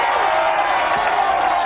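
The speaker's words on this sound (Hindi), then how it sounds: "जरा देखो, तालियां हो जाए" Crowd applause and cheering in a Hindi-dubbed Hollywood film, a dense, steady wash of clapping and cheers that stays loud and even for the whole short moment.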